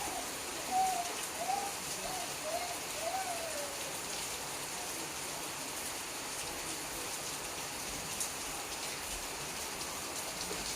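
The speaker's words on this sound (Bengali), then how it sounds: "এই দেখো কি হারে বৃষ্টি হচ্ছে" Heavy rain pours steadily in a rural village during monsoon, a dense continuous hiss with water pooling, while a few faint bird calls chirp early on.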